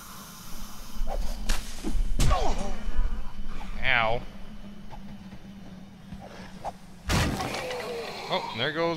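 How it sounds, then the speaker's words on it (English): Fire axe swung and striking in 7 Days to Die, a few sharp whooshing hits and cracks near a large lumberjack zombie, with people talking throughout. "There goes my fire axe."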